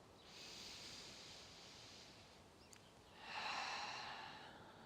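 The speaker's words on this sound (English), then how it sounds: "taking a deep breath in. Long breath out" Slow, deep breaths during a morning yoga session: a soft airy inhale, a pause, then a longer, fuller exhale, close and quiet with no talking.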